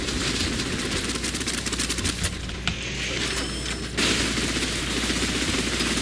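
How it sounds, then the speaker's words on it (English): Rapid automatic gunfire from the shooter game Snowbreak, a dense rattling burst that runs almost without pause, briefly dropping to a lighter mechanical clatter midway before the heavy fire resumes, loud and close. "Suppressive fire."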